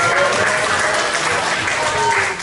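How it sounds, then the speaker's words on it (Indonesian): A small group claps for a student in a classroom coaching session, a short burst of dense, steady applause close by that tapers off at the end. "tepuk tangan dong untuk Rido"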